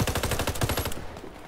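Automatic bursts from the Scout gun in the shooter Warface, a fast rhythmic string of about a dozen close, loud shots that stops abruptly, leaving a short quiet tail.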